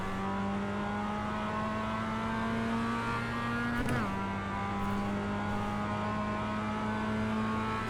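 Race car lapping a wet, drying track at Navarra in the sim racing game iRacing, a steady engine drone with one quick shift or lift midway, continuous and close with no talk.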